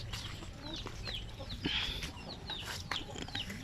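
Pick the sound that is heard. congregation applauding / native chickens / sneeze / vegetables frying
native chickens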